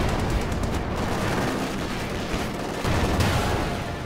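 Machine gun fire in a Company of Heroes 2 match, a dense, continuous crackle of rapid gunfire and distant battle noise, loud and unbroken for several seconds.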